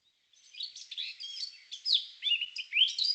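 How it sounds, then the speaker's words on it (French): A Eurasian blackcap sings at Irati in the Pyrenees, a clear, fairly close run of quick warbling notes broken into short phrases over a silent background. "Je vous fais écouter un chant typique de fauvette à tête noire"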